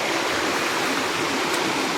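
Water from a mountain stream rushes steadily and loudly close by, a dense continuous flow with no voices over it.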